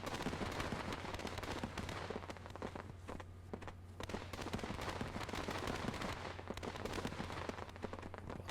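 Ammunition cooks off in dense, rapid crackling and popping bursts like fireworks. The bursts run continuously and loud over a steady low hum, with a brief lull near the middle.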